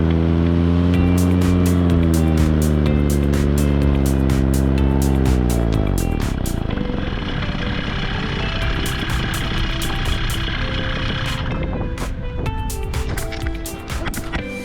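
A small aircraft engine drones steadily on landing approach, its pitch sliding down as power comes back, then settling into a rougher, broadband rumble with light ticking over the final seconds.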